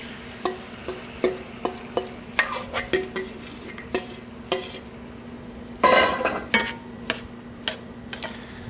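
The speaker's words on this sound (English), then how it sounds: "We're going to go ahead and add the tomatoes to the sauce." Spoon knocking against a pan while crushed whole tomatoes are stirred into a pasta sauce. The taps and clinks are light and irregular, with one brief wet scraping swirl partway through.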